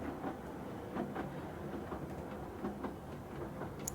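Rumbling train running through a virtual-reality world, a steady low clatter with faint rhythmic clicks that stays at an even level throughout, with no voices.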